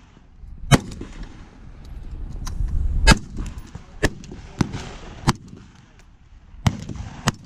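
An AR-15 rifle with a BCM 16-inch upper fires at an outdoor range, with about eight sharp, loud shots spaced irregularly over a low background rumble and some faint talk.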